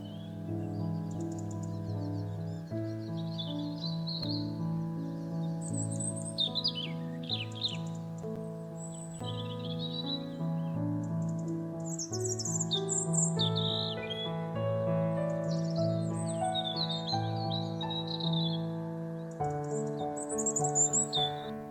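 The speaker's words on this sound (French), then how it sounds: "Le rouge-gorge familier" A European robin sings at an artificial garden pond, thin high warbling phrases coming in bursts over a loud, steady bed of sustained musical tones.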